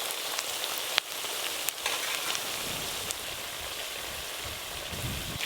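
Onions frying in a pan until deep red-brown: a steady, moderate crackling sizzle with a few sharp pops and clicks scattered through, no voices.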